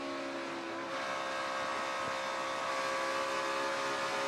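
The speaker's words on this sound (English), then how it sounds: "You can hear just how much throttle Kevin Harvick's able to run there through 3 and 4" Kevin Harvick's NASCAR stock car engine holds a steady, high-pitched drone at full throttle through the turns in a 2017 O'Reilly Auto Parts 500 race, heard at moderate distance with a faintly rising tone.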